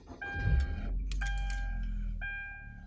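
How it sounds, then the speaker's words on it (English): A car with a manual transmission starts up and its engine settles into a steady low idle, with a few brief whines and dashboard chimes over the running engine. "the first thing you're gonna do is you're gonna turn on your vehicle"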